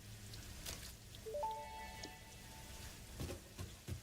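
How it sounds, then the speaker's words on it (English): Rain falling in the video game Satisfactory, a steady soft patter across a partly covered factory build, with brief game interface tones partway through and no talking. "I've got most of this covered up, but not all of it, so some of the rain can get through."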